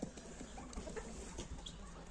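Chickens, laying hens, cluck softly and intermittently at a distance over a steady background hum.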